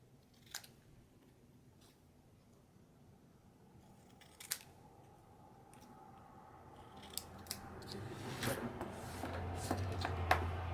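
Scissors snipping paper scraps to trim a border strip, quiet, sparse crisp cuts at first that grow busier and louder toward the end, with faint handling rustle.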